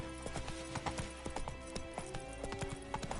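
Horse hooves clip-clop in a quick, steady trotting rhythm in The Witcher 3 video game, clear rapid hoofbeats with a faint background hum, quiet overall.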